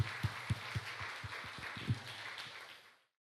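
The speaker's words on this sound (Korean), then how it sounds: "우리 하나님께 감사와 영광의 박수 올려드리겠습니다." A church congregation at a Friday praise and prayer meeting claps for God, quietly and with a rhythmic, evenly spaced beat that tapers off after about three seconds.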